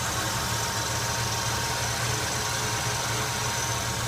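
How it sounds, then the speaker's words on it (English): A 307ci Oldsmobile engine idles steadily with a low, even rumble and a faint constant alternator hum layered over it, no voices. "I hear a bit of a hum, and I think it's coming from the alternator"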